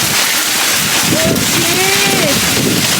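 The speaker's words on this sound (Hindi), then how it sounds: "वो देखो यार ओले गिर गए हैं बहुत तगड़े तरीके से" Heavy hail falls during a storm, making a loud, continuous hiss and patter on surfaces with some wind rumble. A faint voice is heard briefly in the middle.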